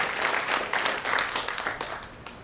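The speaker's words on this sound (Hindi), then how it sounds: "और वेलसाइंस के इस प्लान के लिए एक जोरदार तालियां होनी चाहिए" Seminar audience applauding at a Wellscience event, a fairly brief burst of scattered clapping that swells slightly and then tapers off, heard from a moderate distance in a large room.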